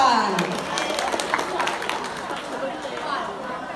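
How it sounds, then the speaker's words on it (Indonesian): Audience applause for the class 8 team at a school Balinese-language quiz contest, scattered clapping mixed with crowd chatter and talk, moderately loud and fairly steady throughout. "Tepuk tangan untuk kelompok kelas 8."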